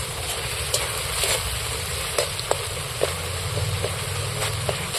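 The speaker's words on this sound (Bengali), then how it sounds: "কালারটা আসার জন্য এইবার আমি এটাকে ভালো করে কষিয়ে নিই" Chicken sautéing in a pan while being cooked down for colour, a constant dense sizzle with occasional sharp clicks of a utensil against the pan.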